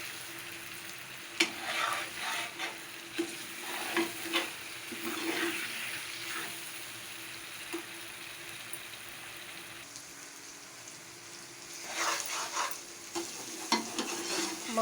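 A spoon stirs potato egg curry in a sizzling pan, giving repeated scraping strokes and soft clinks over a steady low frying hiss, with busier bursts of stirring toward the end.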